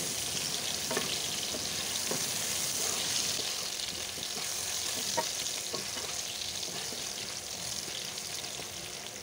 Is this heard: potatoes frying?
yes